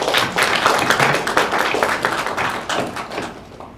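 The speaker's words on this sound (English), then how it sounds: "I'd like us to give them a round of applause and appreciation for all they do for us" An audience at an allied health forum applauds together, a dense, steady wash of many hands clapping nearby that keeps an even level for several seconds.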